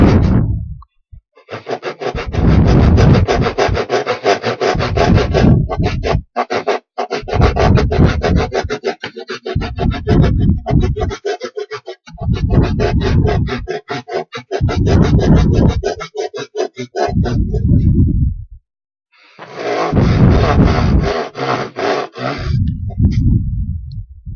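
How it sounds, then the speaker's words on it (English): A handsaw cutting wood for a homemade wooden toy car: rhythmic rasping back-and-forth strokes in several bursts separated by short pauses, close and loud with no talk. "I do it, prefer to do it with a handsaw"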